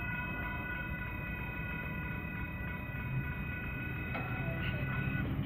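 A BNSF coal train rumbles steadily past a railroad crossing in Palmer Lake, a low continuous roar with faint crossing tones ringing above it.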